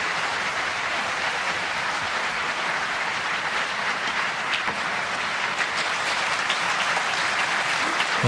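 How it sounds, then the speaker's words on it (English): Steady, continuous applause from the crowd at a World Snooker Championship match, a broad wash of clapping that holds evenly throughout with no talking over it. "applause on both tables"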